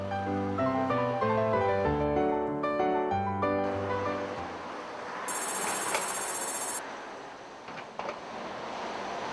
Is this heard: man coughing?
no